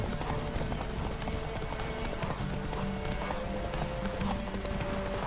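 A horse gallops in The Witcher 3, its rhythmic clip-clop hoofbeats running steadily over a dense, constant game soundscape, with an occasional whinny audible.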